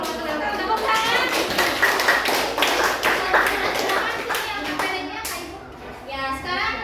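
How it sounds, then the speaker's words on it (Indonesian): A classroom audience claps hands in a burst of quick, uneven claps, mixed with children's voices chattering throughout. "Tepuk tangan."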